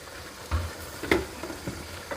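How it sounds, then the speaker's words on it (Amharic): Carrots and coriander sautéing in a pot for rice biryani, a soft steady sizzle broken by a few scraping stirs of the utensil, close and fairly quiet with no talk. "ይሄንን በደንብ አድርጌ አቁላለዋለሁ።"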